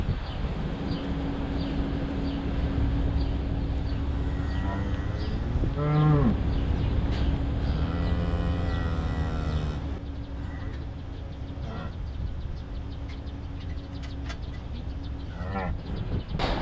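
Dairy cows low and moo repeatedly on a farm while manure is moved and cows are dried up, their calls carrying over a steady outdoor rumble of wind or machinery, with a long drawn-out moo standing out midway.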